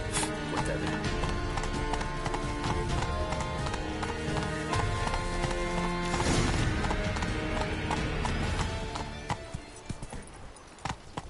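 Rhythmic clip-clop of horse hooves galloping steadily in The Witcher on PS4, close and loud over a layered game soundscape, with a brief surge midway before the hoofbeats fade and thin out near the end.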